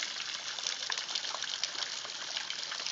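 A constant, hissing gush of water falling roughly 12 feet off a rock shelf onto rocks below, an Ozark spring waterfall heard up close, even in level throughout with no talking.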